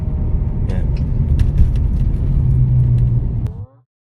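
BMW E46 330i engine revving steadily high for several seconds with a slow-changing drone, close and loud, then a click and abrupt cutoff near the end.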